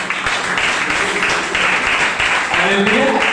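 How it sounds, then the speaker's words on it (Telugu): Church congregation clapping hands together in a dense, sustained round of applause, loud and close, with voices mixed in. "చప్పట్లు కొట్టండి."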